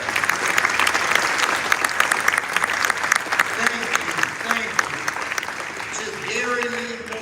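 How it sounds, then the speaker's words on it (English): Sustained applause from an audience, dense steady clapping throughout, with a few voices speaking over it near the end. "Let's give Steve and the Clippers another round of applause."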